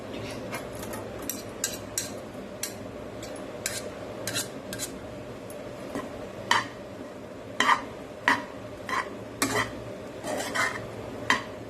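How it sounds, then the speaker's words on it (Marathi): Edible gum roasts in ghee in a pan for dink laddu, stirred with a steady run of light scrapes and sharp metallic clinks over a low background hum, close by and with no speech. "ह्याच्यात पण आपण 1 चमचा तूप टाकणार आहोत आणि हे तुपावरती भाजून घेणार आहोत."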